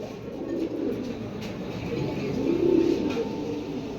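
Army bloodline pigeons for sale cooing in a loft, a steady murmur of overlapping throaty coos close by, moderately loud and continuous.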